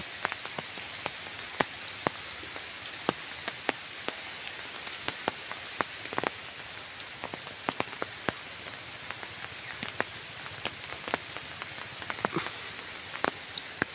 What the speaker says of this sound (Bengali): বৃষ্টি না হলে ভালো হতো।